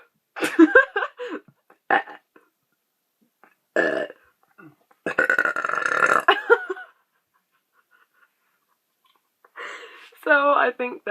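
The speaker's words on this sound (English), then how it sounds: "Anyways, that was 26 burps, I believe." Loud, close burps come one after another in uneven bursts with gaps of silence between them, and some are long and drawn out.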